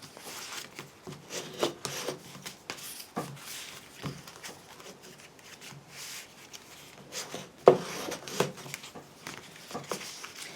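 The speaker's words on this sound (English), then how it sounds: "You just burnish all of those folds." Card folds for a papercraft explosion box are burnished with a tool, giving soft repeated rubbing and scraping strokes with a few sharper taps. The sound is close and fairly quiet, with no talking.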